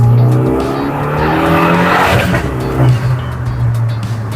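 A tuned 300 hp Renault Megane II RS with a 2.0L engine revving hard at high RPM, a loud close roar with tire squeal and skidding noise mixed in.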